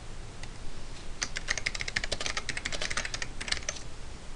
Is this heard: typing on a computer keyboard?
yes